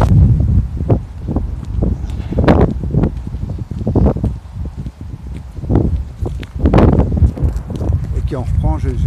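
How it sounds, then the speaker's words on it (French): Outdoor wind gusts buffet a microphone, producing a steady low roaring rumble with repeated louder surges and bursts throughout. "le vent s'est un peu calmé, il y a des bourrasques un peu"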